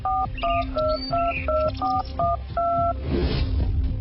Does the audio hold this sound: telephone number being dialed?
yes